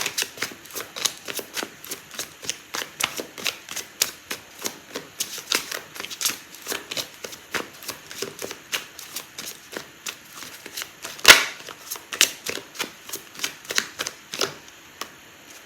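Tarot cards shuffled by hand, a long run of rapid papery riffles and flicks in an uneven rhythm, close and crisp, with one sharper snap partway through and no talk.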